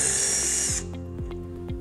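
Power drill boring pilot holes into a ceiling to mount a ski and snowboard storage bracket, a steady whine for under a second that stops, followed by a few short clicks and thuds.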